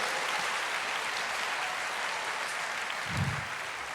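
A church congregation applauds steadily, the clapping faint and evenly spread throughout, with a low thump near the end.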